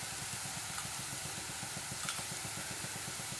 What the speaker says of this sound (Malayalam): ഇപ്പോൾ കണ്ടില്ലേ ചെറിയുള്ളി ചെറുതായിട്ടൊന്ന് ഫ്രൈ ആയിട്ട് വന്ന് തുടങ്ങിയിട്ടുണ്ട്.